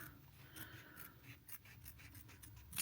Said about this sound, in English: trim off this excess here